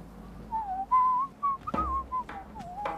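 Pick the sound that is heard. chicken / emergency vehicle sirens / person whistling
person whistling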